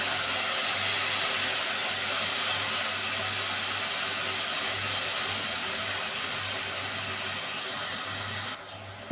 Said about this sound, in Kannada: ಸ್ವಲ್ಪ ಹುಣಸೆ ನೀರು ಹಾಕ್ತಾಯಿದ್ದೀನಿ.